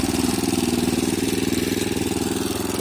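A homemade ATV-style mini tractor with reduction gearboxes runs close by, its small engine chugging in a loud, fast, even pulse for a few seconds with no talk over it.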